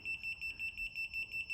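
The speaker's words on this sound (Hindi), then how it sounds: "तो ये बीप करके हमें बता देता है" A vehicle scan tool warns that its VCI is still plugged in with a quick, regular series of high electronic beeps, close and clear, about seven pulses with no voices.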